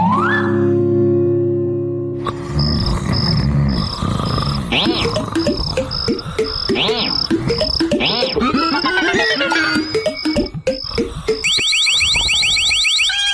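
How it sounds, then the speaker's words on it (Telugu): A cartoon alarm fitted to a box blares loudly and without a break, a repeating electronic siren and beeping tone mixed with chaotic cartoon sound effects and a rising warble near the end. "ఇప్పుడు ఎవరు ఈ పెట్టెను ముట్టుకున్నా ఈ అలారం మోగుతుంది."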